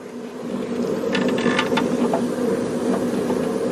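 Power tool cutting steel slowly at about 750 RPM while fitting Mustang caster camber plates, a steady loud mechanical drone with scattered sharp metallic ticks and scrapes throughout, no talking.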